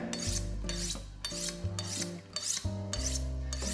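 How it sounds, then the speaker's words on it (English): Kitchen knife sharpened on a steel in repeated strokes, about seven rasping swipes in a steady rhythm, each ringing with a metallic tone, close and alone without talk. "We always have to sharpen our knife, okay?"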